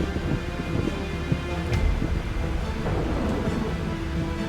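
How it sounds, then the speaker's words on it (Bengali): Thunder rumbles low and heavy outside over a steady roar of storm noise, with a few sharper cracks breaking through the continuous wash of sound. "বাইরে বজ্রপাত হয়।"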